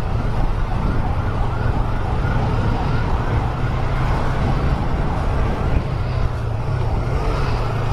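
A wailing ambulance siren rises and falls continuously under the steady drone of road traffic and a nearby engine during an emergency escort.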